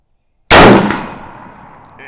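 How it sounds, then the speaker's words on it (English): A single sharp crack from a 1932 Tula hex Mosin Nagant 91/30 rifle strikes a steel gong, followed by a metallic ring that decays over about a second and a half, loud and close. "If I hit down towards the bottom of the gong, it makes a nice ring sound"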